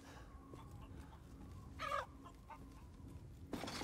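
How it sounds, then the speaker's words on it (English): Chickens clucking in the video game Resident Evil Village, a couple of faint, distant clucks rising over a low steady background, one burst near the middle and another at the very end, with no talking. "Ooh, chicken's down here."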